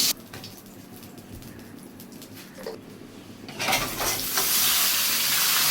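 Cauliflower fries with turmeric and salt in a wok: a low sizzle with occasional stirring clatter swells abruptly into a loud, hissing fry near the end, with no talking.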